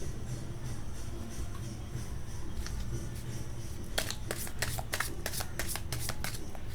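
Tarot cards shuffled by hand in a series of quick, crisp riffling bursts over a steady low room hum, close and fairly quiet, with no talking.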